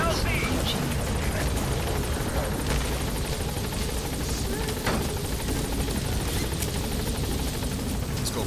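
Steady rotor roar of the Pequod helicopter touching down at a landing zone in Metal Gear Solid 5, loud and continuous throughout, with voices talking over it.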